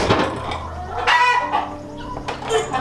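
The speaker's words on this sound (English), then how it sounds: "You want to go feed the chickies? Let's go feed chickies." Backyard homestead chickens clucking and squawking close by, a busy overlapping flock with a rooster-like call, loud and clear with no talking.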